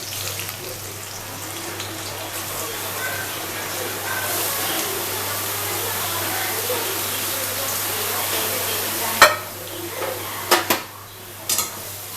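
Finely grated papaya goes into a spice tempering in hot oil, giving a steady broad sizzling hiss that holds evenly, then a few sharp utensil clinks near the end.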